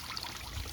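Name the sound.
pond waterfall water trickling, fed by 300 GPH pump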